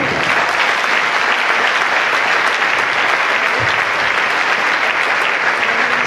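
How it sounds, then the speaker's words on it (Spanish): Loud, sustained audience applause at a Catholic charismatic congress, filling the whole stretch, dense and constant with no pauses. "Denle un aplauso al Señor."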